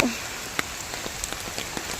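Steady rain pattering on a surface, with scattered louder drops standing out against the continuous hiss.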